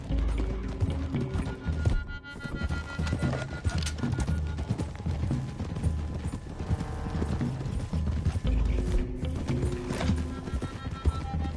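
Horse hooves clip-clop steadily at a run in Red Dead Redemption 2, with an occasional whinny, set against a continuous game soundtrack and ambient layer that stays loud throughout.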